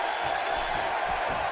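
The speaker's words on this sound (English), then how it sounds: "this Youngstown crowd has been electric all night." A wrestling crowd in WWE 2K18 roars during a Braun Strowman versus AJ Styles United States title match, a brief, continuous, dense arena roar at steady volume.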